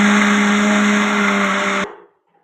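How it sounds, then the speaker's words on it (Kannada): Electric mixer grinder whirring while blending homemade ice cream ingredients, a loud steady high-pitched motor drone that cuts off abruptly near the end and leaves near silence. "ಈಗ ಇದನ್ನೆಲ್ಲ ನಾನು ಮತ್ತೆ ಗ್ರೈಂಡ್ ಮಾಡ್ತೀನಿ,"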